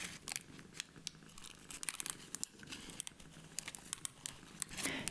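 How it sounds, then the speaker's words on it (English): Close, crisp crinkling and crackling of a very dry plant leaf being handled, with scattered sharp crunchy ticks spread irregularly over a few seconds at a quiet level. "that's the sound of a very dry leaf,"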